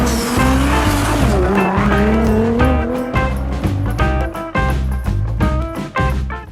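An Audi RS e-tron GT pulls away hard, its tires squealing loudly and continuously over a dense, steady roar of motion with rising tonal whine, close and sustained for several seconds.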